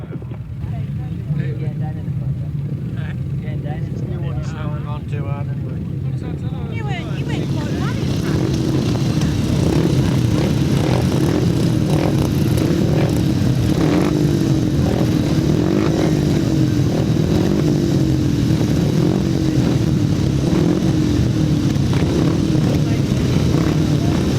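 500cc solo grasstrack racing motorcycles revving on the start line at Bewdley, heard as a loud, sustained, buzzing multi-engine roar that swells after a few seconds and stays dense and close, with no talk.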